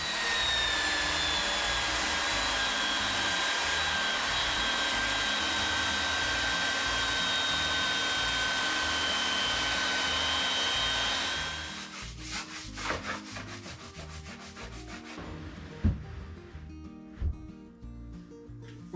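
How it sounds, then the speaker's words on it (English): A belt sander runs loud and steady over a wooden workbench top for about eleven seconds, then cuts off, followed by quieter handling knocks and thumps. "I'll just run the belt sander over it."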